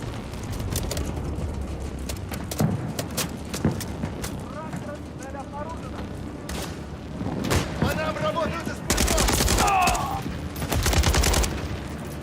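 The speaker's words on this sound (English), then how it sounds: "There's enemy fire." Enemy gunfire in the video game Call of Duty Modern Warfare 3, bursts of rapid shots and booms scattered through a busy battle mix, with a voice talking over the game sounds.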